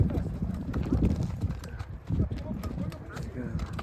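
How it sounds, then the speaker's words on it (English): Mule hooves clip-clopping on a steep trail in the Atlas mountains of Morocco, with irregular close hoof strikes throughout and people talking over them. "Steep, even the mule doesn't want to go."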